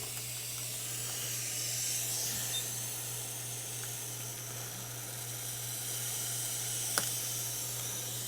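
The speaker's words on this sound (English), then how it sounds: "Turn my hot air back on, and I'm going to heat up the whole thing with no nozzle here" Hot air rework station blowing with no nozzle while heating a Nintendo Switch board during a USB-C port replacement: a steady, even hiss of airflow runs throughout alone, with a low constant hum beneath.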